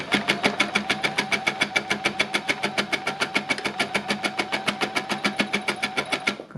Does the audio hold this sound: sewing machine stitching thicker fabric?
yes